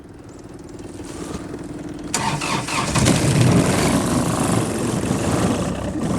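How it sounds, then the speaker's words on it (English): A KIOTI 25 hp three-cylinder diesel tractor cranks in extreme cold, then catches at about two seconds and runs on roughly, a loud, rattly, uneven idle that grows steadier. No one speaks. "Fired one cylinder, then the next cylinder, and then the third cylinder, and in about 10 seconds it'll smooth out,"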